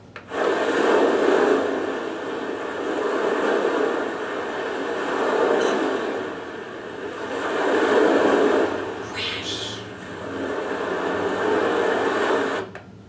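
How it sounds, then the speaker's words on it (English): Waves roll in and wash over in slow, swelling surges, rising and falling about every three seconds against a constant rushing background. "I heard some waves were crashing."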